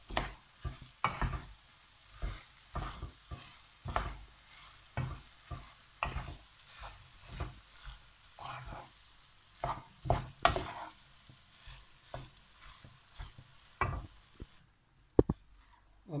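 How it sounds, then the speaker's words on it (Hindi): Pasta is mixed into masala in a pan with repeated squelchy, scraping stirs in an irregular rhythm, close and clear, over a light sizzle, ending with a sharp knock. "अच्छी तरह मिक्स कर लेंगे इसके मसाले में ताकि सारा मसाला इसके अंदर चला जाए"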